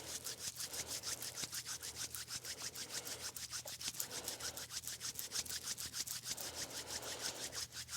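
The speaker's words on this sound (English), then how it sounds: "Let's rub the hands." Palms rub briskly together during a Kundalini yoga kriya, a fast, even swishing of skin on skin repeating steadily throughout, close and soft, with no speech.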